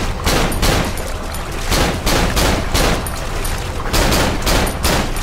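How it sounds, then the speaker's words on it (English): Gunshots in the horror game Cry of Fear bang out loud and close in a steady series of repeated blasts, roughly one every half second, with no talking over them. "I think you have to shoot him."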